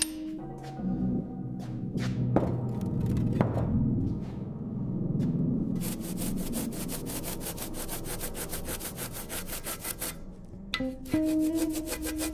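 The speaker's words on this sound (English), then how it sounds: "The transformation truly begins with the grit of sandpaper. As we work the body panels, 40 years of old paint fall away" Sandpaper rubs decades-old paint off the body panels of a 1969 Ford Mustang Boss 429, first in slow rasping strokes, then in rapid, even back-and-forth scrubbing, loud and close.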